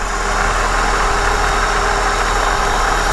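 A supercharged 3.8 litre V6 in a Holden VT Commodore idles steadily and close by, a continuous low engine hum with mechanical whine that stays even throughout, with no talking over it.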